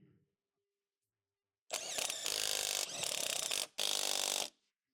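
A socket wrench drives a bolt on a Ford Explorer engine mount, giving close, loud bursts of ratcheting clicks in three runs separated by short pauses, after a moment of near silence.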